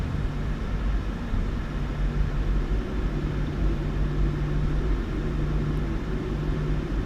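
PMDG 737-800 jet engines spooling up in Microsoft Flight Simulator 2024, a steady low rumble with a faint tonal hum holding evenly throughout, no talk.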